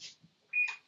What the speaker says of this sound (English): My kitchen timer was going off.